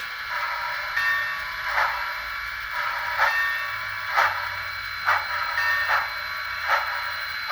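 A model Union Pacific 0-6-0 switcher locomotive with a Maxim can motor, geared low, crawling at speed step 1: a continuous high mechanical hum and whir with soft rhythmic ticks roughly once per second, close and fairly quiet.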